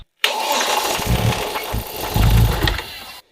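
A damaged BMW drift car engine runs roughly, a loud close mechanical roar that cuts in abruptly, surges and swells, then stops sharply after about three seconds.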